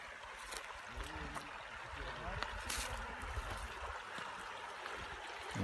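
Running water from a stream trickles and gurgles steadily, mixed with some rustling and faint background voices.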